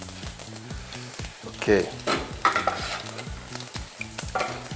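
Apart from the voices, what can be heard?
fennel seeds and cloves sizzling in hot oil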